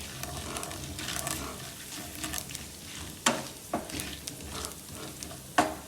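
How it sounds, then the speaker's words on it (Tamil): Dried red chillies, broken by hand, sauté and sizzle in hot oil in a pan while making carrot rice, a steady frying hiss with a few sharp spoon-against-pan stirring clanks. "இந்த காஞ்ச மிளகாவை கிள்ளி போட்டேன். இது சுவுக்கு வதக்கலாம்."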